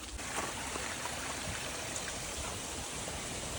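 A stream flows steadily nearby as people walk toward it to hunt for crabs. The rushing wash of water stays continuous and fairly faint.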